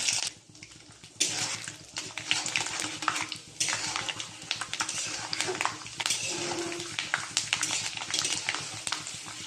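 Peanuts fry in hot oil in a pan, giving a continuous hissing sizzle with occasional clinks of a utensil against the pan, while someone talks quietly nearby.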